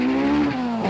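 A dedicated, non-road-registered race track car with an Integra gearbox, making 147 kW at the wheels, drives past with a loud buzzing engine note whose pitch slides slowly downward, close and steady without voices.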